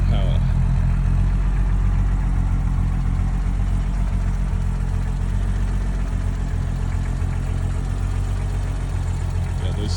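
Alfa Romeo GTV6 engine running under way, a steady, dense mid-to-low mechanical drone that holds constant and fairly loud for the whole stretch, with no voices over it.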